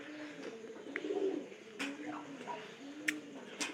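Domestic pigeons in a loft cooing nearby, low rolling coos repeating through the moment with a few brief sharp clicks and flutters, a quiet setting.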